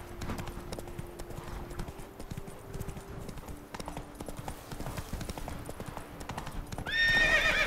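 Roach, the horse in The Witcher 3, gallops with rhythmic hoofbeats over a low steady tone, then snorts and whinnies loudly near the end.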